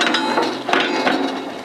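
Adjustable four-way splitting wedge on a Timber Champ 15-ton wood processor being shifted by its handle, giving a few close metallic clanks and ratcheting clicks over a steady mechanical hum.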